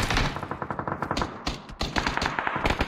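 AUG assault rifle fire in a PUBG-style battle game, a loud, close, rapid automatic burst of evenly spaced shots running through the whole clip with a brief gap near the middle.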